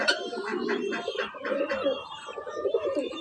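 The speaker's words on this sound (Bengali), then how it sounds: "দেখছেন কবুতরগুলো অনেক মারামারি করছে" Pigeons fighting coo in low, throaty, repeated rolls close by, the calls overlapping one another almost without pause.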